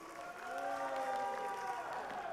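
Faint, steady applause from the audience at a public debate between regency head candidates in Musi Rawas Utara, a short continuous patter of many hands with no break.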